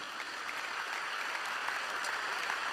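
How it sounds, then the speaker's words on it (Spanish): A church congregation applauds in praise of Jesus, a dense, even wash of clapping heard at moderate distance and fairly soft, with no voices standing out. "alabe a Jesús si quiere hacerlo con ese aplauso y dele gloria al Señor"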